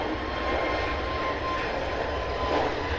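A Frontier Airlines jet airliner taking off for Tampa, its engines a loud, steady roar holding close and constant throughout.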